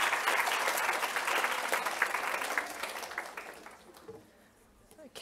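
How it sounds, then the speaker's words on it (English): An audience at a women in science symposium applauds a speaker, dense sustained clapping that gradually thins and dies away, with a voice briefly starting to talk at the end. "Please put a round of applause for Sarah."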